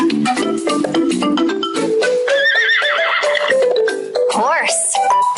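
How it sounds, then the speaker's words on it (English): A horse gives a single high, wavering whinny near the end, heard loud and close after a short stretch of other animal-like sounds. "Horse."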